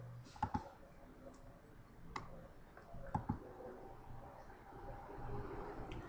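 Sharp, quiet computer mouse clicks, several single taps and a close pair, sound while a user works in a spreadsheet program to add a trendline to a chart.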